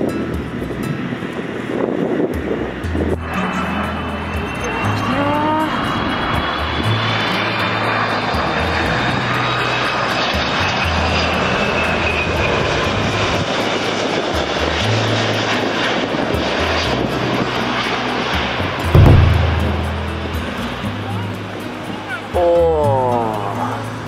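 Airplanes flying low and close over a park near Narita Airport, a loud sustained roar of jet engines with wind buffeting the microphone, people talking at times underneath, and a brief thump near the end.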